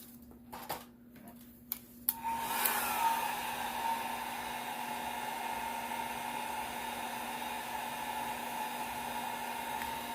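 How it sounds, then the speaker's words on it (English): A few clicks and handling noises, then a blow dryer switches on and runs with a steady whooshing hum to the end. "I'm going to grab my blow dryer."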